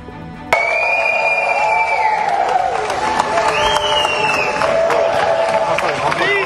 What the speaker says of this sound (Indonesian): kehadiran Perdana Menteri Israel disambut tepuk tangan oleh delegasi yang hadir